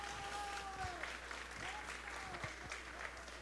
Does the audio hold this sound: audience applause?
yes